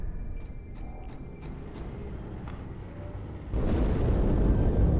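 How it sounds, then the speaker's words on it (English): An explosion in the Halo 2 video game's Cairo Station mission: a low ambient rumble with faint tonal cues, then a sudden loud, broad boom that surges in and sustains to the end. "That explosion came from inside the Athens, same as the Malta"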